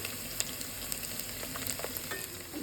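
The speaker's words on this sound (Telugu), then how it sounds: "కలుపుకున్న బెల్లం వేసుకొని బాగా వేగించుకోవాలి" Onions and garlic fry in stone cookware with a steady, fairly soft sizzle, broken by small crackles and pops.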